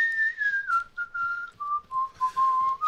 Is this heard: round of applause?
no